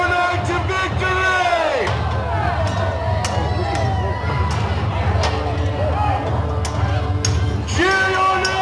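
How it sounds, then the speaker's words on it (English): A crowd of spectators yells and cheers for a knight at a Renaissance faire joust, a loud, continuous roar of massed voices with shouted calls and whoops rising throughout. "Cheer your knight to victory!"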